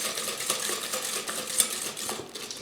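Rice pudding mixture being stirred in a bowl, a steady scraping and clinking of a utensil against the dish with small sharp taps throughout, close and continuous.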